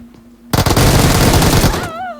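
Sustained automatic gunfire in the PUBG Mobile battle royale game, a loud continuous burst of rapid shots lasting over a second, then cutting off into a ringing tail with no talking.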